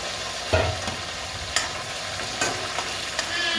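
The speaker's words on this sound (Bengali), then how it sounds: "পেঁয়াজটা ভাজা করে তারপরে মাংসটা দেবো।" Onions fry in a pan for mutton curry with a constant close hiss, punctuated by a few stirring scrapes and light knocks of a spoon against the pan, with no talk.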